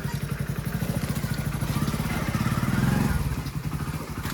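A motorcycle engine chugs close by at low revs, its steady throb swelling briefly as it rolls in, then settling back toward an idle.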